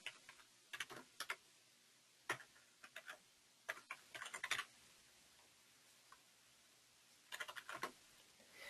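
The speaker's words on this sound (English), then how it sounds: "So right down here we're going to type in some text." Clusters of crisp keyboard key clicks typing text on a computer, quiet and close, in short bursts separated by pauses, alone without talk.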